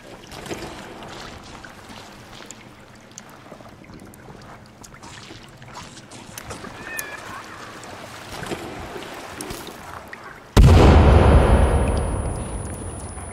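A grenade explosion in the survival horror game Sons of the Forest: one loud, sudden broadband boom near the end that decays over a few seconds, after a stretch of low ambient rumble and faint scattered noises.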